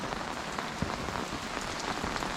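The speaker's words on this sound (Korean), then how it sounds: "어제보다 더 많은 비가 내리고 있다." Heavy rain drums steadily on a campsite at a water-sports park, a dense, close, continuous patter with scattered louder drops and no voices.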